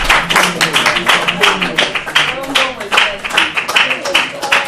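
Audience applause at a football event where the two teams agreed on a transfer fee, dense clapping throughout with voices mixed in.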